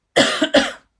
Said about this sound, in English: Well, excuse me, I'm about to cough.